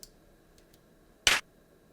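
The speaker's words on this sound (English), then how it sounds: "Now it's time to show a hand clap sound" A single dry hand clap sample from an EMU percussion drum module lands crisply after faint ticks, a short bright burst standing alone over near silence.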